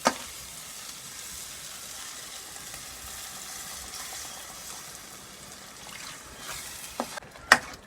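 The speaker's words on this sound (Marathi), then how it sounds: "आता आपण याच्यात पाणी टाकूया।" Water is poured into a pan of sizzling mushroom butter masala gravy with capsicum, giving a soft, steady hiss and bubbling that stays fairly quiet, with a few sharper clinks near the end.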